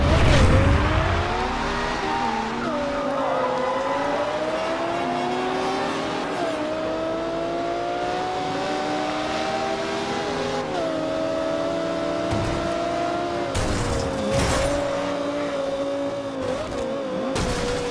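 Race cars speed along a closed road without traffic in Forza Horizon 2, a loud V10 engine revving and holding high pitch with gear-shift dips, joined by brief bursts of other cars and impacts late in the run.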